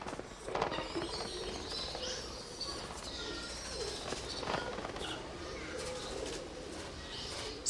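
City pigeon chicks beg insistently for food, their thin, wheezy cheeping and peeping repeating over a steady rustling background, with a few brief wing flutters nearby.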